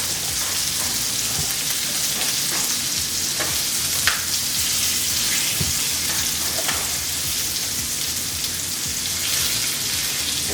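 Food simmering and sizzling steadily in a pan on low heat alongside salmon, green beans and sweet potatoes, a continuous close crackle with a few sharper pops, no talking.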